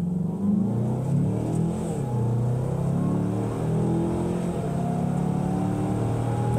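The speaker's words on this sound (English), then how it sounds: "Mazda made the sound of this engine just good" A 2024 Mazda CX-5 crossover pulls away hard from a brake-torque launch on a snowy-season road, its engine note rising steadily and loud through the run with no talking.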